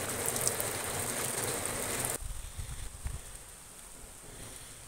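Steady heavy downpour hisses for a couple of seconds, then drops away to quieter scattered patter and faint dripping.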